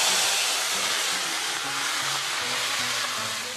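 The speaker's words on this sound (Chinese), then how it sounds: "然后就把鸡块下去爆炒" Chicken pieces are stir-fried in very hot oil with Sichuan pepper and sand ginger, giving a loud, steady sizzling hiss close up, with faint tonal sounds wavering beneath it.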